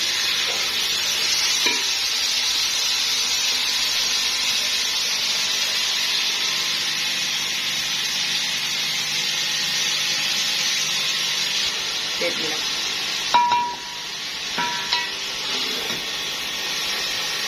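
Vegetables sizzle and fry steadily in a pan for chicken and vegetable fried rice, a continuous close hiss with occasional clinks and scrapes of stirring near the end.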